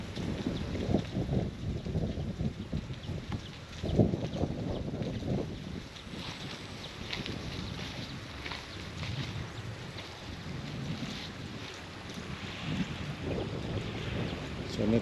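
A local boat passes over shallow sea water, a steady low rumbling wash blended with strong gusting wind across the microphone, continuous throughout.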